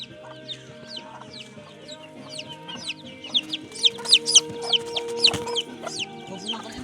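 Chickens and a mother hen cluck in a burst of close, sharp, repeated calls that grow louder and denser midway, with a few crowing-like cries among them, over a low background hum.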